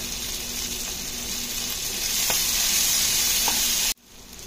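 Chicken fry sizzles steadily and loudly in a hot pan as coriander leaves are added at the end, with faint stirring taps under the continuous hiss before it cuts off sharply.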